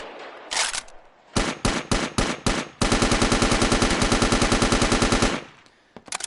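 An ACR assault rifle in a VR video game fires a few separate loud shots, then a long, steady burst of rapid automatic fire that stops sharply, with no talking.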